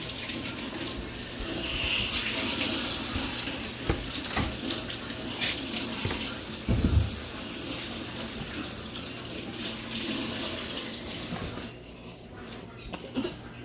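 Hot water runs from a kitchen faucet into the sink during countertop cleanup, a steady close gush with brief clatters and splashes partway through, cutting off near the end.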